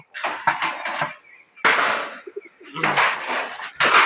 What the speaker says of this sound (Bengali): এখানে প্রথমে আমার এই কবুতরগুলোকে খাবার দিব।